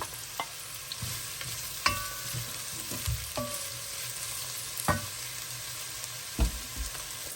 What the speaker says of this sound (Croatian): Stavljamo crni luk da se dobro proprži.